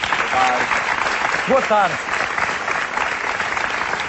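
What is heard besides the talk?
audience applause welcoming guests on a TV show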